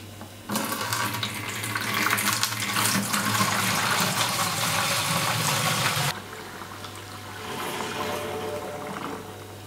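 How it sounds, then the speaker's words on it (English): Liquid siphoned down into a fermenter while brewing a braggot, a steady gushing, splashing pour that runs loud for several seconds, then drops to a softer trickle. "So we'll siphon it down into the fermenter"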